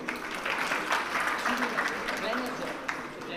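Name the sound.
audience applause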